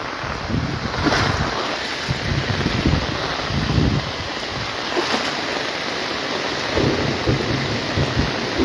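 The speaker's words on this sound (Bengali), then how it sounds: "বিদ্যুৎ চমকাচ্ছে" Heavy morning rain pours steadily in Cumilla during a thunderstorm, a dense roar with low rumbling swells of thunder, no voices.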